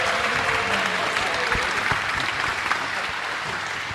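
An audience at a Caribbean heritage celebration applauds steadily and densely for folk singers approaching the stage, a continuous wash of many hands clapping with no voices breaking through.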